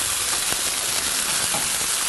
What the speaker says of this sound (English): And we're just stir frying this together.